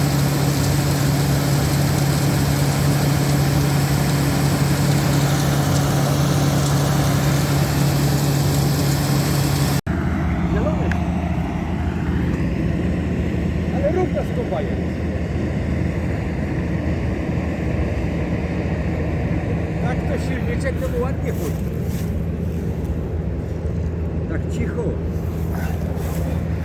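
A heavy American-built engine of a farm machine drones steadily throughout, loud and close, with a voice talking in Polish over the constant mechanical hum, during corn harvesting.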